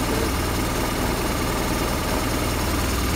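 The engine of a 2008 BMW R1200RT SE motorcycle idles steadily close by, a constant low rumble with no talking over it.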